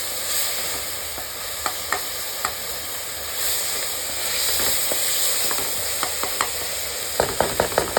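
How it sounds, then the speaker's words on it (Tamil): Ground masala sautés and gets stirred in a pan for chicken kulambu, a steady close sizzle punctuated by sharp ladle taps against the pan, quickening into a rapid run of clinks near the end, with no voices. "இந்த பச்சை வாசனை போகிற வரைக்கும் நம்ம கொஞ்சம் வதக்கிட்டு ஒரு 5 மினிட்ஸ் கிட்ட வதக்கிட்டு"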